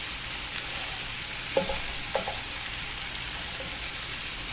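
Ground beef fries in butter in a pan, a steady bright sizzle running throughout with a few soft scraping stirs breaking it up, close and even with no talking.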